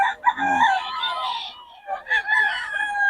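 A rooster crows loudly and close at a chicken market in Bocaue, two drawn-out calls in quick succession with a little background noise.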